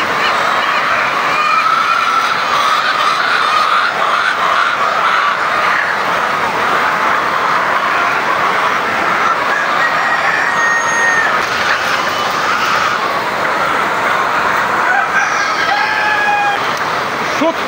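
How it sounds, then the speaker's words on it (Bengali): White layer hens calling on a poultry farm, a dense, continuous chorus of many birds with a few clearer calls rising out of it, loud and unbroken from start to finish. "দেখুন পিছনে সাদা লেয়ার, কি সুন্দর গান গাচ্ছে, ডাকছে"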